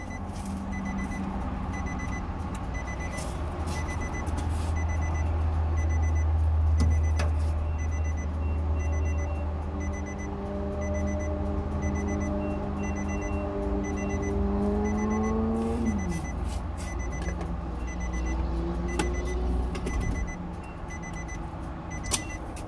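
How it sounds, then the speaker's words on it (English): Gas pump at a fuel station beeping in a regular series of short tones during fueling, over the low rumble of an idling vehicle engine nearby. "sorry about the beeping too."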